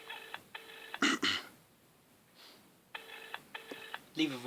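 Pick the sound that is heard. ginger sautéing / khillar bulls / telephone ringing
telephone ringing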